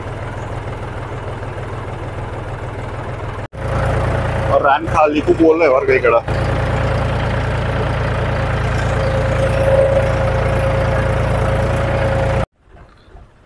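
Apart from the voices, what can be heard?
tractor engine idling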